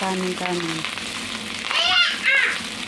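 Garlic and cooked rice fry with a loud, steady sizzle, while a few birds chirp and cluck nearby partway through.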